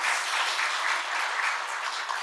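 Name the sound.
applause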